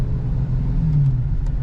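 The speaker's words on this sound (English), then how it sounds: "let's see if we can get some exhaust notes" A 2021 Dodge Challenger R/T Scat Pack 392 with its stock exhaust, giving a steady deep rumble that swells briefly in the middle before settling, close by and fairly loud with no voices.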